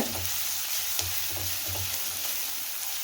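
Vegetables for veg hakka noodles sizzle and crackle steadily in a hot pan, with periodic scraping and tossing strokes of stir-frying, close and continuous with no talking.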